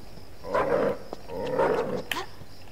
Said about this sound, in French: Il y a un chien qui est apparu.